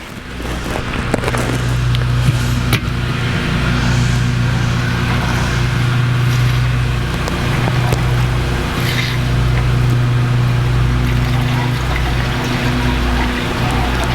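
A Champion 3500 dual fuel inverter generator runs at a steady, continuous hum with a low mechanical drone and a faint wavering pitch, loud and constant with no talking.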